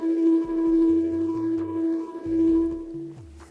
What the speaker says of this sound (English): The bass note, I knew that I wanted to make the bass note out of the drill.